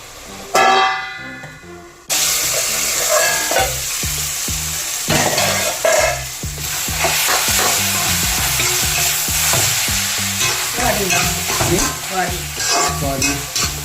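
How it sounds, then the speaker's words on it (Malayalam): Liver sizzling in a pan for a Kerala-style liver roast, loud continuous frying with repeated scraping and stirring strokes of a spoon against the pan, close up. "ലിവർ ഇങ്ങനെ ഒന്ന് വാണ്ടിരിക്കണം"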